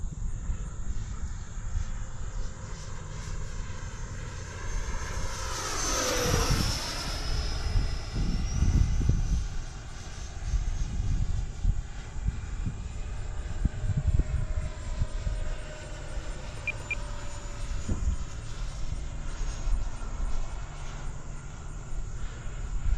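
An RC model airplane drones steadily overhead at about half throttle, its engine whine sweeping in pitch as it passes close around six seconds, then holding a continuous buzz as it circles farther off.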